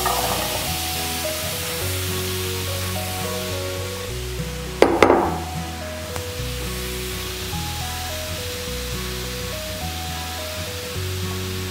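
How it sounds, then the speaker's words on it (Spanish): Diced apples sautéing with panela in a frying pan hiss with a steady sizzle under soft background music, with a brief louder burst of crackling partway through. "Vamos a poner una sartén al fuego y vamos a saltear las manzanas junto con la panela"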